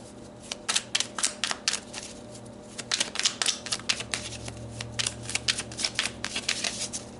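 Tarot cards shuffled by hand in a steady run of crisp riffling bursts, close and clear, with brief pauses between flurries and no talking.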